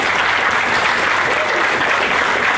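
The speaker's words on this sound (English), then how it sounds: "please give them a round of applause" An audience at a Corvette C8 media presentation at Corvettes at Carlisle claps in loud, dense, sustained applause, close by and without pause.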